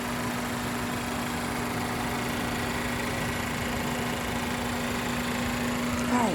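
A 2025 Chevy Malibu idles steadily with the hood open, a smooth, even engine hum with a constant low drone and no revving, heard alone up close.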